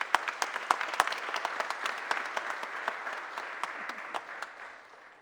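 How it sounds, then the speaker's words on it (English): An audience applauds for a newly introduced civic leader at a mayor's press conference, a steady wash of clapping with sharp individual claps standing out, moderately distant and gradually tapering off. "Give a round of applause for Richard Vague."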